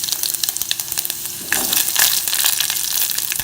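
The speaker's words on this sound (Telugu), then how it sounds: "ఇప్పుడు ఆవాలు, కొంచెం జీలకర్ర వేసుకోవాలి." Mustard seeds and a little cumin sizzle and crackle in hot oil for a tomato rasam tempering, a steady close frying hiss that grows louder midway with scattered pops.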